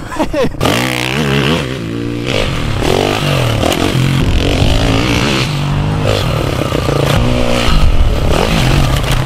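A YCF 190 pit bike accelerates hard in second gear on a track, with a loud, close engine rising in pitch and rasping under load, and a voice talking over it.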